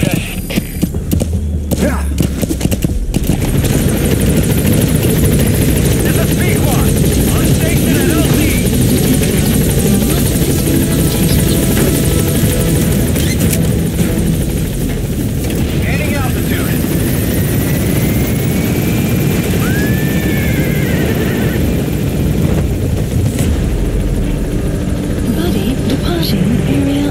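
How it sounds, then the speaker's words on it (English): An extraction helicopter arrives in a stealth video game, its rotor thumping and engine whine loud and continuous for the whole stretch, with game sounds mixed in. "Helicopter requested."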